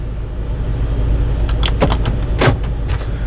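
Power door locks on a 2012 Toyota Highlander actuating, a few short sharp clunks near the middle and end over a steady low engine or cabin hum, close by with no talking.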